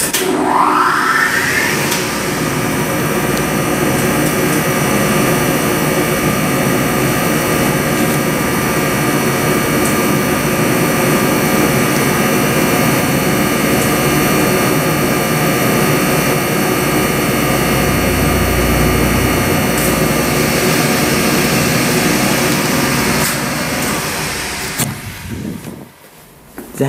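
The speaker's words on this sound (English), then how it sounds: "That is the best motor I've ever heard." Dry-powered hydraulic motor, apparently driving an elevator, runs at a loud, sustained, even high-pitched whine with a steady tone for about 25 seconds, then cuts out abruptly into a short, quieter tail.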